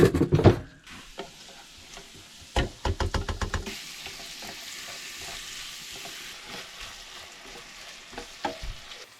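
Spicy garlic shrimp sizzle in melted butter in a pan over a camp stove in a truck camper, with a steady fry hiss throughout and a quick series of utensil knocks and scrapes against the pan.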